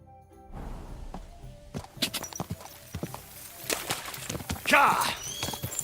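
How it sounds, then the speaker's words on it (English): Horse hooves clop along at a walking pace in Kingdom Come Deliverance 2, mixed with a few knocks and brief voices over a low ambient bed. "This horse must have cost a pretty groschen."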